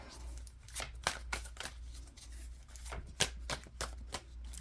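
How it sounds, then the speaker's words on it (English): A deck of tarot cards is shuffled by hand in a quick series of soft riffling, slapping bursts, fairly quiet and close, with no one speaking. "Okay, 3 more shuffles."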